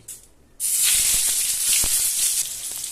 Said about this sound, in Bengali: তেলটা গরম হয়ে গেছে, এবার আমি বেগুনগুলো দিয়ে দিচ্ছি।